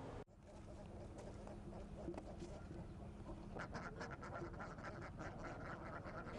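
Ducks quack as they are herded toward harvested rice fields, the calls faint and scattered under a narrator's voice and low background noise.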